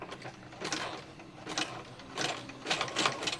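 A sewing machine stitching through a clothesline fabric bowl runs in rapid whirring bursts with short pauses between them, close and steady, with no talking.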